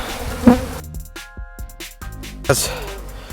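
Honeybees from a swarm buzzing around a hive box, a droning hum that rises and fades as bees fly close past, with short louder bursts.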